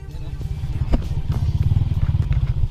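Motorcycle rolling over a rough road of loose black rocks in Negros Occidental, a low engine rumble under constant clatter and thumps as the wheels bounce across stones, close and steady.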